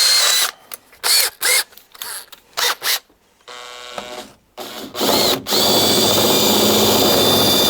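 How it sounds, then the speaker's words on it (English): An electric drill whirs in repeated short bursts, then runs longer with a lower, steadier mechanical drone before a final sustained high whine, used on a Reliant Regal Mk V car. "We'll try it on the drill this time."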